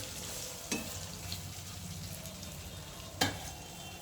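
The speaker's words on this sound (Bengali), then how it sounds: "পনিরগুলোকে আমি অল্প অল্প করে দিয়ে হালকা করে ভেজে নেব" Paneer frying lightly in oil, a soft, steady sizzle at low level, broken by two sharp clinks as the pieces are stirred in the pan.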